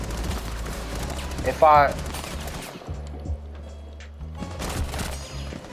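An SMG-12 submachine gun firing in Rainbow Six Siege, with short rapid bursts of close, sharp shots separated by pauses, while someone talks over the shooting.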